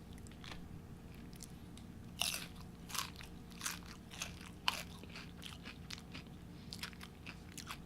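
Doritos Locos chips crunched and chewed up close, with repeated crisp bites and steady chewing over several seconds, quiet and without talk.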